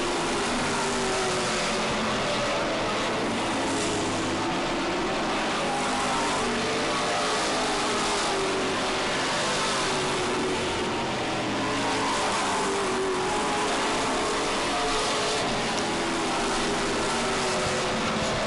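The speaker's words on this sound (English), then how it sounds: "You can see there's a lot of side-by-side racing." Race cars at a New England short-track event run side by side at speed, their engines a loud, continuous roar that swells and fades as the pack passes close by, with no pauses throughout.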